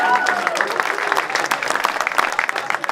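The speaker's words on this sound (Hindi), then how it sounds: "जोरदार तालियों से स्वागत करिए हमारे इस इवेंट के स्टार परफॉर्मर कान्हा भाई का" An audience at a stand-up comedy show in Delhi claps loudly to welcome comedian Kanha Kamboj, with dense, uneven applause running throughout and voices talking over it.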